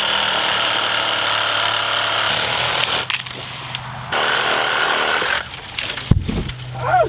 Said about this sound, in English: A sawzall. Found the cedar limb.